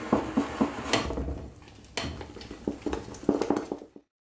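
A spoon stirs Nutella into marble cake batter in a bowl, giving a string of close, light clinks and scrapes against the bowl in uneven bursts, with short pauses between strokes.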